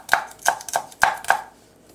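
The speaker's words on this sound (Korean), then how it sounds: "청양고추를 잔잔하게 썰어 보겠습니다" Knife finely chopping Cheongyang chili peppers on a cutting board: five crisp, evenly spaced chops with sharp clicks, close and clear, no talking.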